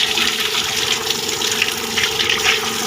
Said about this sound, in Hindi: इस पाइप के ज़रिए ये पानी खारिज हो रहा है